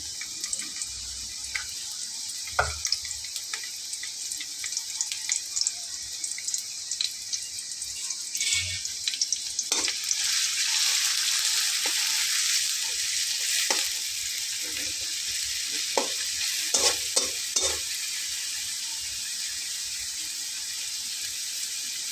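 Four coarsely chopped onions sprinkled with salt fry in oil in a pan, giving a steady bright sizzle with occasional stirring scrapes and knocks, louder in the middle, with no talking.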